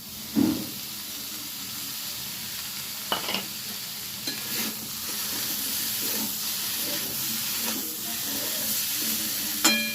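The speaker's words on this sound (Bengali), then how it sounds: "দিয়ে দিচ্ছি ভিজিয়ে রাখা মুসুর ডালটা।" Soaked red lentils (masoor dal) hit a hot pan with a soft, steady sizzle and hiss, a few sharp clatters of stirring or a utensil breaking through.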